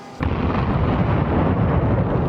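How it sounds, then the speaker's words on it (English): Fireworks set off in the shape of a dragon open with a sudden loud blast. A dense, sustained roar of crackling bursts and rumbling follows. "they set off a bunch of fireworks in the shape of a dragon"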